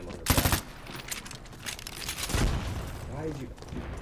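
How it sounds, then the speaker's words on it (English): Automatic gunfire in the online shooter Dirty Bomb, with loud bursts of rapid shots amid game effects while a player talks over the action. "Anything that's red, I shoot at."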